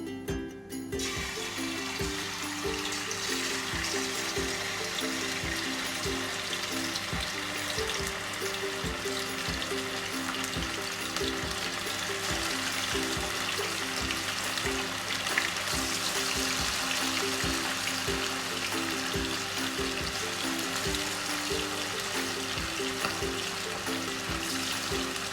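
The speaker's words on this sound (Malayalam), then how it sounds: "എണ്ണ നന്നായിട്ട് ചൂടായിട്ടുണ്ട്. നമുക്ക് ഇതിലേക്ക് ചിക്കൻ ഇട്ട് കൊടുക്കാം." Chicken pieces frying in hot sunflower oil, a steady dense sizzle and crackle that holds close and even throughout with no talking.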